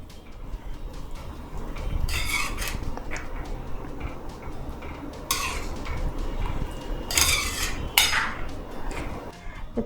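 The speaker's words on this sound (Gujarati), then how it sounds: "તો એમાં આપણે બાફેલા વાલ નાખીશું। આ બધાને બરાબર મિક્સ કરી લઈશું।" Boiled val beans being stirred into spiced oil in a pan for a Gujarati val shaak, with a metal spoon clinking and scraping against the pan in several short bursts over a steady low background.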